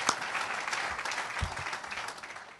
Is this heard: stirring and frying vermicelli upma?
no